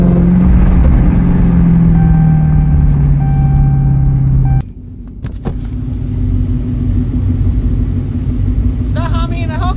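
A Dodge Hellcat engine rumbles at a steady idle, a loud close low drone that drops in pitch partway through and then settles into a deeper steady hum, with a brief high chirp near the end.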